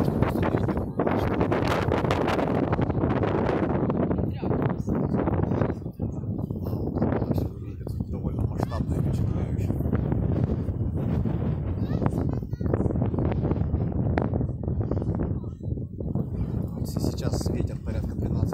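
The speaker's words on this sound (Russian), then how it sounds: "Сейчас ветер порядка 13 метров в секунду" Strong gusting wind of about 13 metres per second at a wind farm with Vestas V112 turbines buffets the microphone in a continuous roar, with a voice talking beneath the blustery noise throughout.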